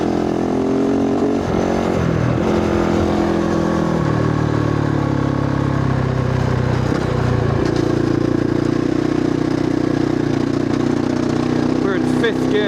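An adventure motorcycle fitted with a 51-tooth rear sprocket pulls in fifth gear through deep desert sand on partial throttle. Its engine drones loud and steady, the pitch wavering slightly, and wind roar mixes in close up.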